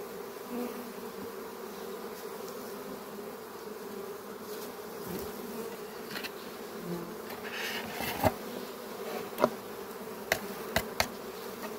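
Honey bees buzz steadily across a full open hive, a low constant drone with a few sharp clicks and knocks toward the end, without speech.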